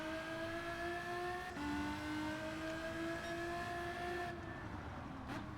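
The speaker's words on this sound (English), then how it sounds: "kick the nitrous in to get some of that time back" Race car engine in Gran Turismo 7 on the Autopolis circuit in a Japanese FR Challenge event, holding a steady loud whine that climbs in pitch under nitrous boost, with a brief shift dip partway through and no talk.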